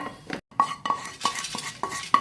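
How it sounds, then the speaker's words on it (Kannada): Metal utensils scrape and clink against a pan in a quick, irregular series of close scoops as cooked elephant foot yam kootu is transferred to a vessel, with a brief silent gap near the start. "ಇನ್ನು ಆಫ್ ಮಾಡಿಕೊಂಡು ಇದನ್ನೀಗ ತಣ್ಣಗಾಗಲು ಒಂದು ಪಾತ್ರೆಗೆ ಹಾಕ್ಕೊಳ್ತಿದ್ದೇನೆ"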